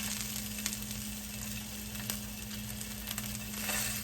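Salmon searing in a ceramic coated pan, a steady close sizzle and crackle of frying with a few brief clicks and scrapes, no voices.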